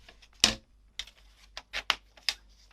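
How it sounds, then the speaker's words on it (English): Scissors snip through card along a score line, giving a handful of short, sharp, close cuts with brief pauses between them and no talking. "I'm just going to take my scissors and cut it in."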